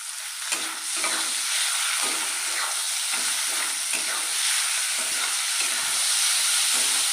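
Prawns sizzle and fry steadily in a pan with oil, salt and turmeric for a red amaranth greens prawn dish, a continuous close hiss broken by repeated stirring scrapes, with no talking.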